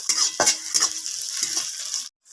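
Crushed ginger and garlic go into chopped onions frying in hot oil, giving a steady close sizzle with a few stirring scrapes and clinks of a utensil, then a brief quiet drop near the end.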